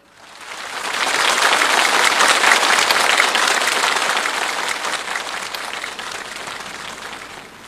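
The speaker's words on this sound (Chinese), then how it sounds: "我们掌声有请" Audience applause at a Peking opera concert of young performers, a dense, loud burst of clapping that swells within a second, holds steady, then slowly thins toward the end, with no talk over it.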